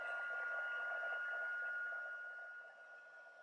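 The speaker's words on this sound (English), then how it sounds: "This time it won't take so long because the heat tool is already hot." A heat embossing tool blows hot air over a card in a steady, fairly faint whirring hiss with a thin whine, which tapers off over the last second.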